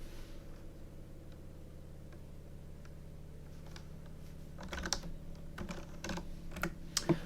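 Typing on a computer keyboard while entering a terminal command on a Raspberry Pi, faint scattered key clicks at first, growing into a denser burst of louder taps over a low steady hum.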